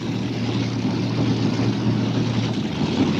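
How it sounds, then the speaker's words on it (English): Five-engine unlimited modified pulling tractor, methanol-fueled, at a 1998 Tomah, Wisconsin truck and tractor pull, roaring at full power with a steady, dense, loud engine drone that holds unbroken throughout. "Listen to this thing. 5 motors."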